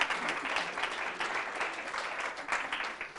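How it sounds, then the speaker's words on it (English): An audience gives a short round of applause at a Shakespeare talk, a dense, steady patter of many hands clapping at close range for a few seconds. "Give them a little round of applause."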